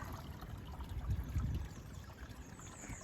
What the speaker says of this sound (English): Even if I look behind, you can see between the rocks there's water flowing there.